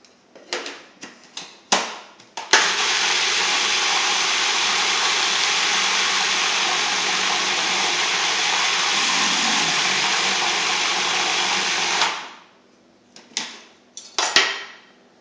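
A food processor blends kale chip sauce with apple cider vinegar in one long, steady, loud whirring run of about ten seconds, set between several short bursts of clatter and pulses.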